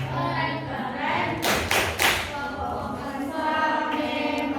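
A group performs the 'tepuk keren' clapping chant during a classroom teaching practice session, with a few sharp, loud claps in quick succession between chanted voices, children's speech audible around them.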